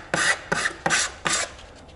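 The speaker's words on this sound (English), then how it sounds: "just give it a light sand, and that's perfect" Light hand sanding on a patched timber front door, four quick rasping strokes in an even back-and-forth rhythm, close and clear with no talking.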